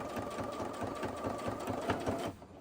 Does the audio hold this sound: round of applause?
no